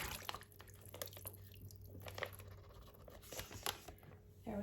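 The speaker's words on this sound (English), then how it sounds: "So let me grab a bag of chicken, pour it in." Chicken breast marinade is poured into a bag of chicken, giving faint wet drips, squishes and plastic rustles, up close and quiet with no talking.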